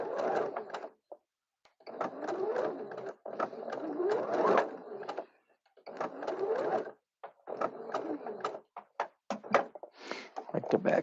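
Sewing machine backstitching fabric pieces for horror puppets, running in several bursts of rapid stitching separated by short pauses, close and fairly loud.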